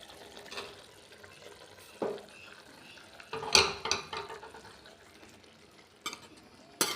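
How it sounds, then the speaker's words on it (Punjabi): A spoon stirring boiled potatoes into spices in a pot for aloo methi sabzi, giving scattered scraping clatters and sharp knocks against the metal with quiet pauses between strokes, heard close up. "ਸਾਰੇ ਮਸਾਲੇ ਦੇ ਵਿੱਚ ਚੰਗੀ ਤਰ੍ਹਾਂ ਆਪਾਂ ਇਹਨਾਂ ਨੂੰ ਮਿਕਸ ਕਰ ਦਾਂਗੇ"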